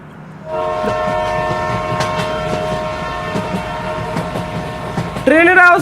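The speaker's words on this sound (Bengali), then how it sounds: "ট্রেনের আওয়াজ পাইতেছি কিন্তু ট্রেন দেখতেছি না।" A train in the game Bangladeshi Bus Simulator rumbles past with rhythmic clatter and a sustained tonal horn, loud and close, ending with a louder bending horn blast.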